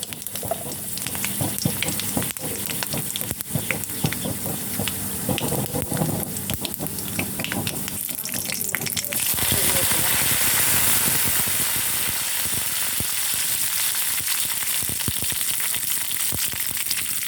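Red chillies frying in hot oil in a pan along with mustard seeds, fenugreek and cumin: steady crackling sizzle throughout, growing louder and hissier in the second half, with no talking.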